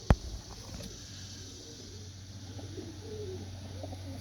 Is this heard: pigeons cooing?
yes